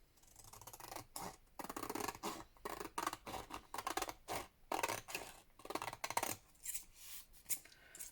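Scissors trimming paper around the edge of a handmade postcard, a close run of crisp snips and cuts in uneven rhythm over about eight seconds, with no talking.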